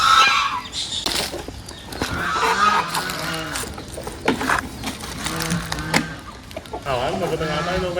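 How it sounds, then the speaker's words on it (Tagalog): Native chickens on a farm, with geese and ducks nearby, clucking and squawking in a busy jumble of fowl calls, close and fairly loud, with people talking over them. "Sa kabila naman yung mga native natin na manok."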